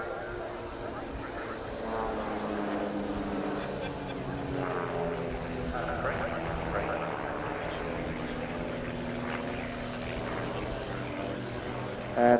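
Display aircraft at an airshow break out into Cuban manoeuvres, their engines a continuous distant droning roar that rises and falls slightly as they pass, with no voice over it.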